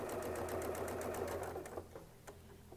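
A sewing machine stitches free-motion quilting lines on a quilt intersection project, a steady rapid needle chatter running loud at first and then thinning to lighter, intermittent stitching bursts.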